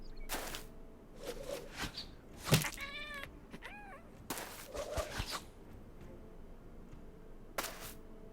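Cat meowing in the video game Battle Brothers: several distinct meows, some rising and wavering, mixed with sharp percussive hits at intervals, fairly close and moderately loud.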